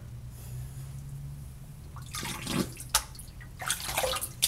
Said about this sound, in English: go ahead and set your razor off to the side and rinse your face.